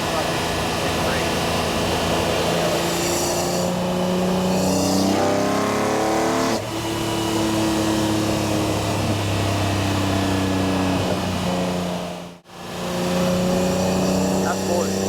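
A Ford six-cylinder car engine runs steadily and loudly up close, with pitch shifts as it revs and settles, and people talk over it throughout.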